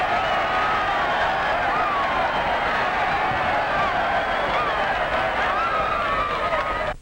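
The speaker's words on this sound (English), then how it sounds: "and get a cheer like this" A large ball-game crowd roars and cheers after a score, a dense, sustained wash of voices and clapping that holds steady at full volume before cutting off, from a 1946 film soundtrack.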